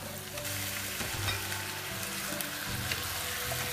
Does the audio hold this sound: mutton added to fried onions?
yes